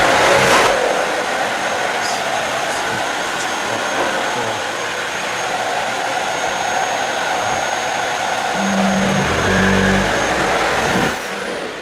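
A Dyson Ball Animal 2 upright vacuum cleaner runs on a rug with a loud, steady motor roar and airflow whoosh, shifting slightly in pitch as it moves, with a few brief knocks and thuds toward the end.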